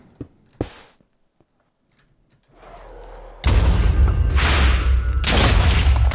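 A Minecraft wither firing explosive skulls in the game: a few scattered clicks and pops first, then a rising rush that bursts into a loud, sustained, roaring explosion noise that fills the second half.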